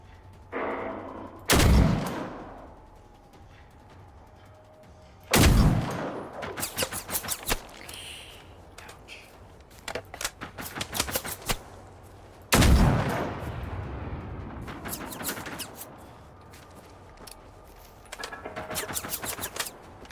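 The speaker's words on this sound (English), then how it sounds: "we'll waste some bullets." Gunfire in the video game Generation Zero: loud single shots and quick bursts in three separate clusters, each followed by rattling echoes and scraping, with quieter gaps of ambience between them.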